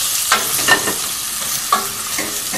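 Potato and pumpkin pieces fry in spiced ghee, a loud steady sizzle cut by a few scraping stirs of a spoon, close and without talk.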